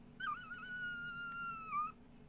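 A dog in the role-playing game Tales of Berseria gives a single drawn-out whine or whimper that rises, holds steady and falls away, fairly clear over a soft background with no speech.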